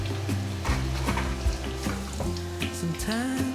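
Pumpkin pieces deep-fry in a pot of oil with a steady, close crackling sizzle that continues over background music.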